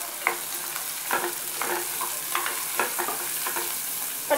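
Chopped small shallots and kanthari chillies fry in a pan with a constant bright sizzle, punctuated by regular scraping stirs of a spoon, close and clear.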